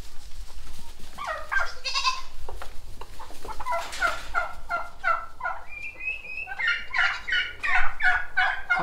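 Repeated clucking and squawking from several chickens, fairly close, with short calls coming in bursts over a steady outdoor background.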